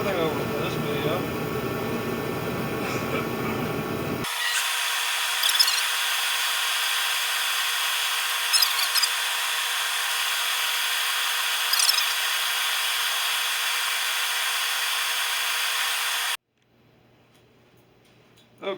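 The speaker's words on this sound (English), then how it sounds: "A little sanding." Power sanding a chestnut oak wooden bowl: a steady, loud whirring hiss runs continuously for most of the clip with a few brief surges, starting after some lower-pitched noise and stopping abruptly near the end.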